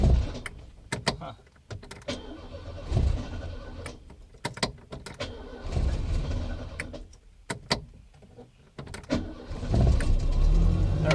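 The 1117cc engine of a 1980 Mk 1 Ford Fiesta cranks and sputters through several starting attempts with the choke on, giving uneven bursts of starter whir and coughing engine noise, with a voice briefly heard nearby.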